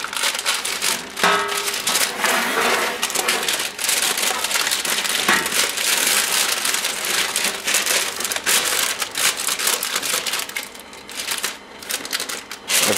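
Parchment paper being crimped and folded into the corners of a sheet cake pan, giving dense continuous crinkling and crackling for the whole stretch, fairly close and loud with no talking.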